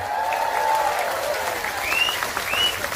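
A large crowd at an Islamic religious gathering in Taiwan applauds with dense, continuous clapping, with a few brief high whistles or shrill cheers rising over the steady wash.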